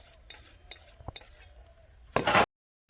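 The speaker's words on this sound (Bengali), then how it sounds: "এই যে মা ফেটাচ্ছে হাতে যতক্ষণ না ফোমের মতো হয়ে যাচ্ছে" Ground black gram (kalai dal) paste is beaten by hand in a bowl until foamy, for making dal bori in a village home in winter: soft, scattered wet slaps, then a brief louder churning burst at the end.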